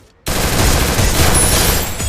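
Gunfire in a battle royale game, a dense and loud burst of rapid automatic shots that starts abruptly and keeps going without pause, with no talk over it.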